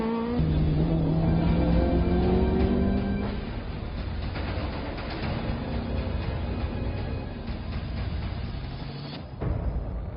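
Vintage Porsche and Ford Escort Mk1 and Mk2 rally cars race hard, engines revving high and rising through gears, loud and close, then settling into a sustained roar of several cars at speed.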